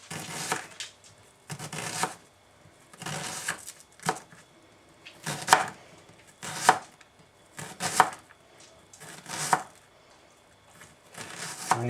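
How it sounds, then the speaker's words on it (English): Knife slicing a red onion into thin slices on a board, a steady series of crisp chopping strokes in short bursts, close and clear with no talk. "And then you can really take small thin slices off here."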